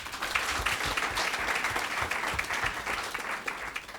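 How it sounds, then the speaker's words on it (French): An audience at a business project pitch event claps loudly and steadily for several seconds, a dense, continuous burst of applause. "On va l'applaudir très, très fort."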